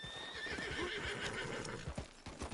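A horse in the Red Dead Redemption 2 video game whinnies with a rising, wavering call while hooves clip-clop in quick rhythm beneath it, fairly faint overall.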